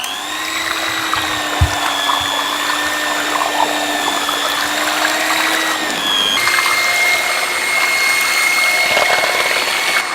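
A steady, loud electric whirr drones while egg, sugar, lemon juice and oil are mixed for an Italian Easter treat, its pitch shifting partway through as the speed changes.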